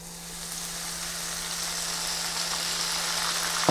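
Shrimp tempura frying in hot oil, a steady close crackling sizzle that grows slightly, with a low electrical hum underneath and a small clink at the end.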